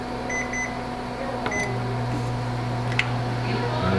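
A microwave oven sounds short electronic beeps as its buttons are pressed, then starts up with a steady low hum that carries on under a voice.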